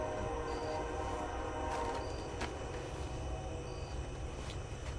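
Steady rumbling and rattling of a train in motion, heard from inside a carriage, with a constant low roar and occasional faint clicks.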